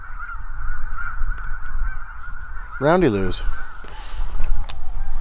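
A flock of snow geese honks in a busy overlapping clamour out in the field during a hunt, with a loud rapid burst of close calls midway and someone talking over them.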